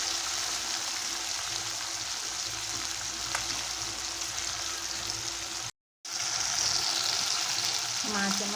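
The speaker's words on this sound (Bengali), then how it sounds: "দিয়ে ভালো করে এখন ভেজে নেব মোরলা মাছগুলো।" Mola fish coated in salt and turmeric fry in hot oil in a wok, giving a steady, loud, close sizzle that cuts out briefly before resuming.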